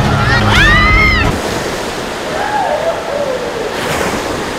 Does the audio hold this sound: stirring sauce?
no